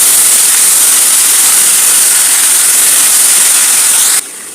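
Chopped pumpkin greens hit hot oil in a pan and sizzle with a loud, steady, close hiss that holds evenly before dropping away abruptly near the end.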